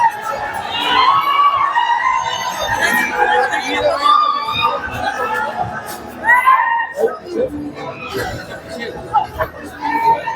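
A crowded cinema hall full of chatter and shouting, with whistles and cheers breaking out over a continuous loud babble of many voices.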